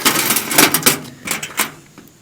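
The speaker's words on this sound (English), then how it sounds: "All right, our bag of washers." A bag of metal washers is shaken and handled while a VEVOR tow-behind dump cart is being assembled, making a quick series of bright, close metallic jingles and clinks that fade toward the end.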